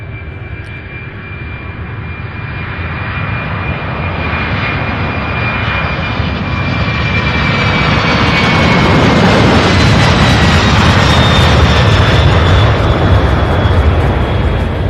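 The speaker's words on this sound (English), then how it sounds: "This first one here heading to San Bernardino, 26-year-old 767." A 26-year-old Boeing 767 jet at Louisville airport, bound for San Bernardino, roars steadily with broad engine rumble that swells louder across the clip, with no voices.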